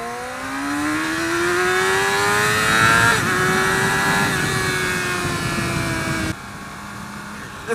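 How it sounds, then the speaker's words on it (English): A 2017 Yamaha R6 sport motorcycle engine revs hard, its pitch climbing to a high whine and holding, then dropping sharply as the throttle closes. "The first thing that strikes you is just how high this thing revs."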